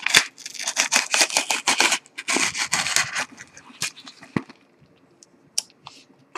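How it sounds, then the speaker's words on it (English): A knife slices open the packaging of a jumper cable and wire set for breadboard prototyping, with quick, close scraping and cutting strokes that fade into sparse ticks and rustles. "let's go ahead and rip this sucker open and see what's inside. Make sure I don't cut anything here."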